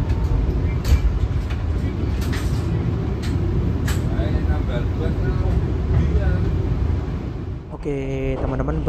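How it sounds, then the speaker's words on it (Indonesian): The Blambangan Express passenger train departs Surabaya Gubeng station, rumbling steadily with loud, continuous low noise and clattering, followed near the end by a brief high-pitched whistle or horn-like tone. "Barusan saja kereta api Belambangan Express berangkat dari stasiun Surabaya Gubeng"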